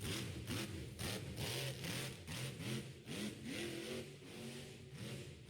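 A monster truck engine revs in rising and falling waves as the truck drives up a small ramp at a muddy motorsports event, the rumbling sound distant and faint.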